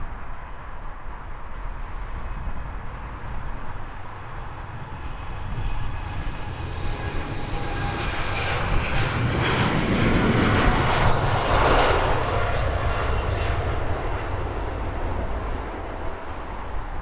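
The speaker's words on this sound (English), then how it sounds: "Virgin Atlantic Dreamliner." A Virgin Atlantic Dreamliner jet takes off at Heathrow Airport, a loud, continuous engine roar heard from a distance that swells gradually toward the middle and then slowly eases as the aircraft passes and climbs away.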